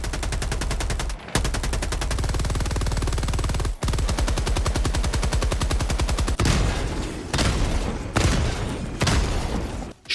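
Helldivers 2 weapons fire in long, rapid automatic bursts with heavy bass punch, broken by short pauses, then give way to a few slower, booming single shots, loud and close with no voices.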